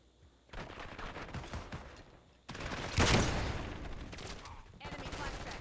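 Rapid bursts of automatic gunfire in a Call of Duty match, dense crackling volleys with one louder close shot, loud and continuous across several seconds with a short gap midway.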